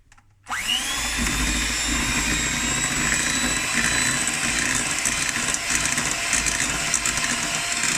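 An electric mixer whirs into cake batter with flour and milk for a marble cake, starting abruptly after a short quiet moment and then running loud and steady at close range.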